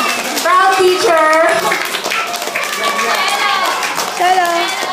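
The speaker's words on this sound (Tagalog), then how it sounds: "Pwede po bang bigyan natin siya ng isang malakas na palakpak" An audience applauding a student singer at a school event, with clapping mixed under children's voices and chatter, fairly close and lively throughout, rising and dipping in bursts.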